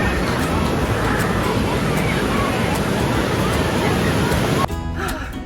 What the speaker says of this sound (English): Frankly, those waves are quite powerful.